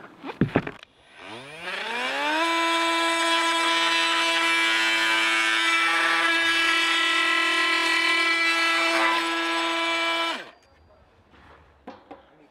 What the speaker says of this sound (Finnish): Sahataan mieluummin tässä alhaalla ja jätetään toi katolta sahaaminen niin vähälle kuin mahdollista